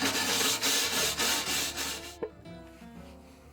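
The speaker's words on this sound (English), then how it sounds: "For this, a wire brush is the best tool." A wire brush scrubs oxidation off the outside of a weathered gas grill firebox in rapid, steady rasping strokes for about two seconds, then stops, leaving a single sharp tap and quiet.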